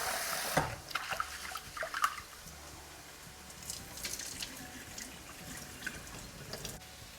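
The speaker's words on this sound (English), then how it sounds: "I'm just going to wash it 4 to 5 times until I get the water a bit clearer" Running water splashes and sloshes in a sink as rice is rinsed, with soft swishing and a few faint clinks, fairly quiet throughout.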